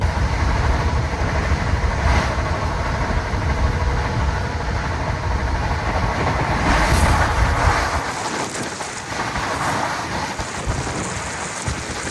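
A freight train passes nearby as a loud, steady rumble and roar that drops away sharply toward the end, leaving a quieter washy background.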